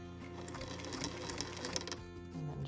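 A sewing machine runs steadily, stitching a 1/4 inch seam around scalloped-edge quilt binding, its motor hum and needle chatter continuous and close, speeding up slightly near the end, with no talking.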